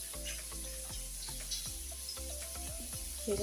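Large fish pieces frying in a pan, a steady soft sizzle with scraping stirring and clinking utensil sounds at a regular rhythm, close and fairly quiet, no voices.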